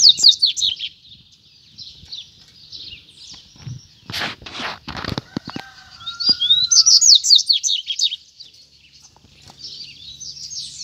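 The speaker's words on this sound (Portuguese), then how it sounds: "Olha o coleiro aí embaixo aí, ó." A collared seedeater sings bright, rapid chirping phrases at close range, with a pause partway through filled by some rustling and handling noise before the song resumes.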